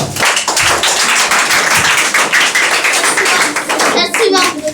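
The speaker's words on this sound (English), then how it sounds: "Clap for them" Students in a spoken English class clap for classmates returning to their seats, a loud burst of close, uneven handclaps with children's voices mixed in, thinning out toward the end.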